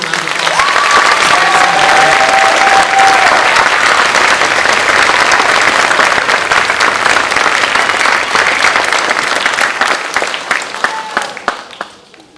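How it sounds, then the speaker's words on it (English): Loud, sustained applause from a concert audience at an area honor band performance, dense clapping filling the hall for about ten seconds before tapering off at the end. "Betster one more round of applause?"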